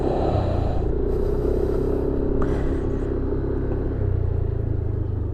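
A Yamaha NMAX 155 scooter is ridden along a road, its engine giving a steady, loud, continuous drone mixed with wind rush, holding level with only slight swells.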